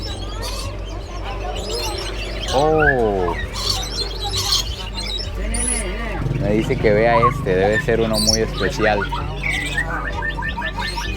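Many colourful exotic birds squawk, chirp and sing inside an Indonesian animal market, a dense layered chorus close by, while someone talks over it.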